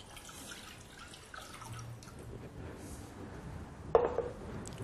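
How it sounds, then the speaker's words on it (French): Running water splashes into a saucepan holding lemon zest for a few seconds, a steady light trickle with a brief louder gush near the end, no voices. "J'ajoute un demi-litre d'eau."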